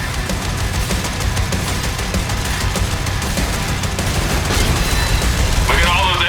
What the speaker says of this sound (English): Look at that dual plasma gun.